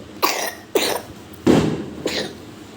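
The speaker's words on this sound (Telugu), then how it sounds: "హెల్త్ దగ్గుతున్నాడు." A sick young boy coughing indoors, four separate harsh coughs spaced about half a second apart, close and fairly loud with no talking.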